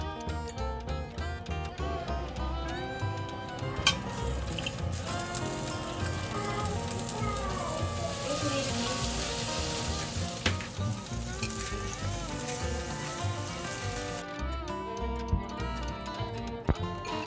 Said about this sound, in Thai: แล้วก็คลุกแป้งทอดกรอบ ย่างบนกระทะนะคะ